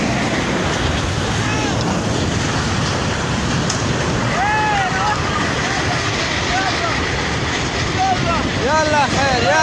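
Rushing floodwater in Swat, Pakistan, roars loud and continuous like heavy surf, with wind noise across the microphone and shouting voices rising over the torrent.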